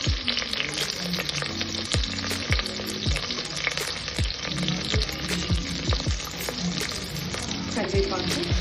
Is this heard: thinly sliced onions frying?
yes